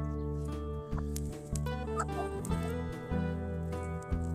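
Chickens clucking nearby in a chicken run, a run of repeated throaty clucks and soft squawks with short irregular pauses, close and fairly loud with no talking.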